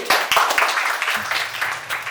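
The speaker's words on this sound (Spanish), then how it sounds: "Un aplauso para Randy." Audience applause at a school event, a burst of clapping that starts sharply and carries on steadily for a couple of seconds, with some voices mixed in.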